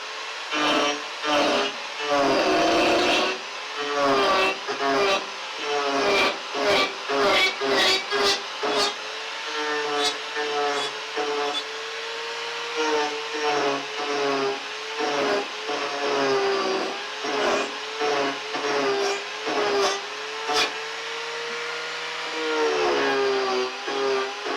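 An Arbortech cutter power-carves wood, a harsh, loud grinding rasp repeated in rhythmic bursts as the blade bites in and eases off, close and continuous with no talking.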